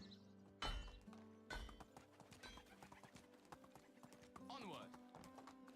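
Horse hooves clip-clop in the medieval survival game Medieval Dynasty, with a few sharp hoof knocks and a whinny near the end, while someone speaks briefly over the game sounds.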